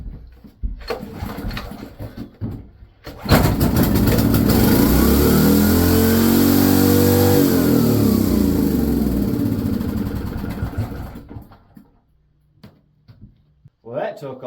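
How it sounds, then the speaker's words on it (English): A salvaged gasoline generator fitted with a fuel pump is pulled over, catches and roars up loudly for several seconds before winding down. Someone talks and pull-start noises come before it. "see if this bad boy will fire up. It may take several pulls to prime the fuel pump."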